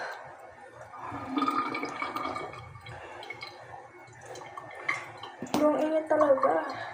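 Water runs and splashes in a sink during handwashing, gurgling and dripping unevenly with louder bursts near the end, while a voice is heard faintly alongside.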